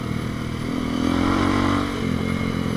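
A Bashan 200 motorcycle rumbles while riding, its engine droning loudly and continuously up close, swelling slightly in the middle before settling back.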